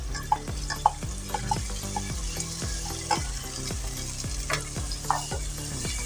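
Chickpeas are stirred into a sizzling, fried masala in a pan, a steady crackling fry under repeated scraping stirs and occasional light spoon knocks, close and moderately loud.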